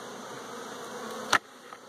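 Honeybees hum in a parent colony hive, a dense, steady buzz close by and unbroken throughout, with one brief sharp knock near the end.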